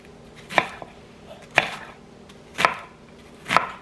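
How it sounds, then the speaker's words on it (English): Onion being cut with a knife on a cutting board: four crisp, evenly spaced chops about a second apart, close and clear in a quiet kitchen. "while I'm here at my cutting board, I'm going to go ahead and cut up some onion"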